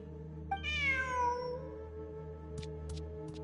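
A cartoonish cat meows once in Genshin Impact on PS5, a clear rising-falling harmonic cry over a steady game music bed, followed by a few soft chime-like ticks.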